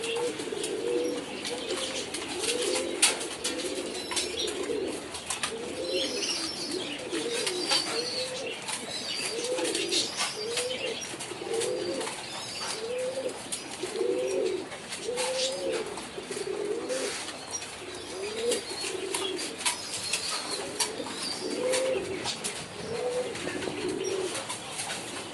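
Many pigeons at a large pigeon farm coo in a rhythmic, repeating low warble, several birds overlapping, with faint chirps and rustling in the background and no speech.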